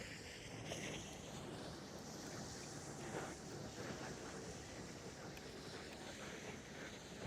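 A speeding boat's motor roars steadily as it passes near Brooklyn Bridge Pier 1, New York, amid rushing wind and splashing water, loud and close, with wind buffeting the microphone throughout.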